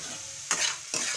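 Jaggery and sugar being stirred in a pan for a bottle gourd pickle, two distinct scraping strokes over a quiet background, close and clear with no talking.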